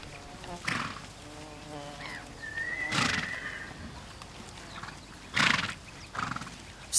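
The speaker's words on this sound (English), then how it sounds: "I heard the horses begin to move around" Horses shuffle and stamp nearby with scattered hoof knocks, and one horse lets out a short whinny amid quiet background noise.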